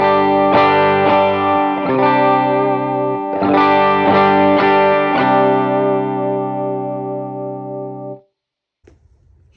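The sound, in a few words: clean electric guitar tone through pedalboard, compressor off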